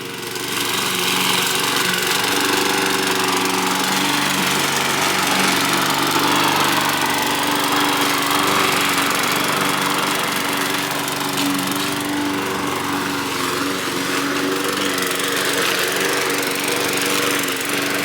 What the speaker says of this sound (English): going to town with a lawnmower